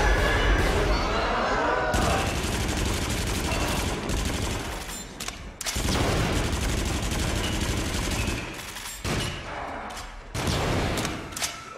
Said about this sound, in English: I'm gonna shoot it sideways.